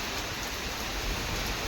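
Heavy rain pours outside in a dense, unbroken hiss, loud and even throughout with no other sounds.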